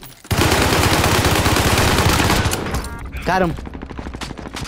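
Rapid, loud automatic gunfire in a shooter video game pours out in a dense burst for a few seconds, then cuts off as a voice speaks briefly.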